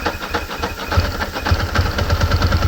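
A 2002 Ducati ST4s motorcycle engine catches and runs up close, loud rhythmic thumping pulses that steady into a lumpy fast idle.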